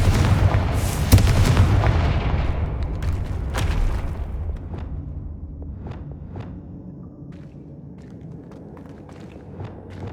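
The Confringo blasting spell in the video game Hogwarts Legacy, a loud booming blast that rumbles and fades over several seconds, followed by scattered lighter impacts and footstep-like taps, with no talk.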